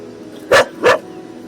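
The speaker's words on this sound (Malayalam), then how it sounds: "കുരയ്ക്കും." A dog at a landslide site gives two quick loud barks in succession, close by, over faint background noise.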